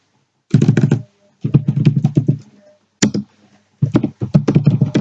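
Clacking computer keyboard keys during database coding, several quick bursts of close, crisp keystrokes separated by short pauses, alone without any speech.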